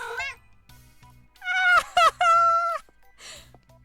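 Pumpkin, a vampire cat in the game Cabernet, lets out a few drawn-out, wavering meows, loud and close, with soft game sounds between the calls.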